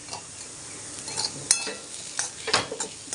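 A spoon stirs breadfruit stir fry with powdered masala in a sizzling pan cooked in coconut oil, giving soft scraping and several sharp metallic clinks against the pan over a steady frying hiss.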